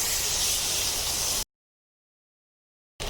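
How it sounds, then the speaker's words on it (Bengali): Spices sizzle and hiss steadily in a hot pan for chicken curry with bottle gourd, a loud, even frying noise that cuts off abruptly into silence and returns briefly at the end. "আরেকটু আমি মশলাটা ভাজবো।"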